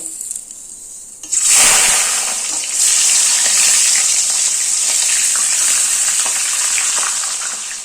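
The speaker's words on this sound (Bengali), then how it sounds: "এবার এই তেলে মাছের মাথা ভেজে নেব।" A loud, steady sizzle bursts in as fish heads drop into hot mustard oil, then settles into continuous crackling frying with no voices.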